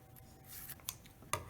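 Scissors snip into an index card, giving a few short, close crisp cuts with quiet paper rustle between them, the last two snips the sharpest.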